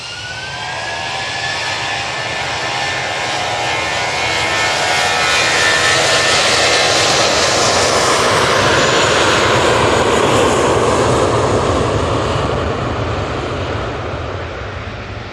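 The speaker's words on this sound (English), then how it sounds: "TUI in the plain Jane livery, about to come down in front of me" A TUI airliner in plain livery comes in to land at Manchester Airport, its jet engines swelling into a loud, close, steady roar that peaks midway and eases slightly toward the end, with no talk.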